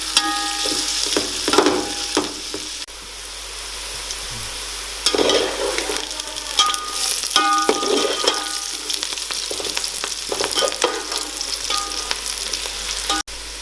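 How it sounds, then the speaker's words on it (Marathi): Onion sizzles in hot oil in a pan for chicken biryani, a continuous crackling hiss broken by scraping stirs and occasional utensil clacks against the pan, close and fairly loud. "आता हे तेलात आता आपण कांदा हा टाकून घेतलेला आहे। आता हा पूर्ण ब्राऊन होईपर्यंत आपल्याला भाजून घ्यायचा आहे।"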